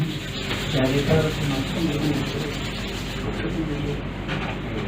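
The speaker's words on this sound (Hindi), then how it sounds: "दोनों हाथों को रब करें" Two hands rubbing together briskly during a meditation session, a continuous dry swishing friction heard close and steady, with a low room hum beneath.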